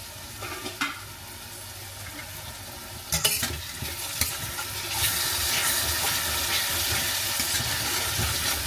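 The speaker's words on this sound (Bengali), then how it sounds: "মশলা ভালো করে ভাজা হয়ে গেছে" Spices fry in a pan with a continuous loud, hissing sizzle, a few utensil knocks early on, and then an even stronger steady crackle with no speech.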